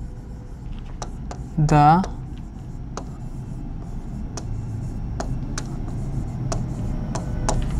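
A topic title being written by hand on paper or a board, short dry scratchy strokes and taps repeating through the stretch, fairly faint, with a voice speaking over them.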